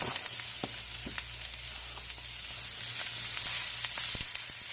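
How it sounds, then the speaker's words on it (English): Onions and red pepper sizzle steadily in hot, nearly smoking oil in a pan, a constant close crackle with occasional sharper pops and a low hum beneath. "you can hear how it's sizzling"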